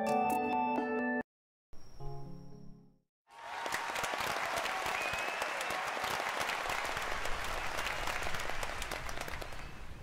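An audience erupts in cheering and applause as the curtain falls on a stage performance in the visual novel Hakuchuumu no Aoshashin, a dense, sustained roar that follows a short stretch of game music and a brief silence.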